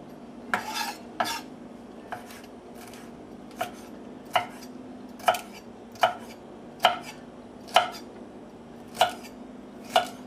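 A knife chopping vegetables into rough cubes on a cutting board while preparing Thanksgiving smoked turkey fixings, about a dozen crisp, evenly spaced chops with a steady low hum beneath.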